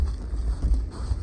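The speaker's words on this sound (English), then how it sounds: "And what is that? It's this wind, Yuki." Low wind rumble buffets the microphone in a steady, close, fairly loud roar with small gusty surges, with no voices.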